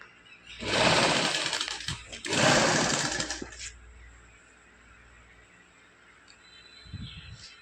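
A sewing machine with a single foot stitches piping onto garment sleeves in two loud, rapid running bursts close by, followed by a quiet pause and a faint soft rustle.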